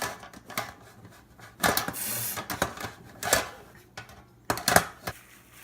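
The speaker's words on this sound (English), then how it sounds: "we're going to clip the base of a 10-inch springform cake tin upside down" Metal base of a 10-inch springform cake tin being clipped into place upside down, producing a series of close clattering clicks and scrapes in uneven bursts.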